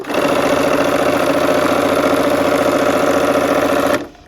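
A sewing machine stitches quilt pieces in one fast, steady run of tightly spaced mechanical pulses, loud and close, stopping abruptly near the end.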